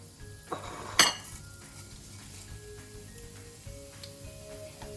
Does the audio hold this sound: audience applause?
no